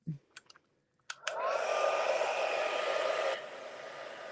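After a few clicks, a heat embossing tool switches on and blows hot air in a steady, close whooshing roar for about two seconds before its pitch drops.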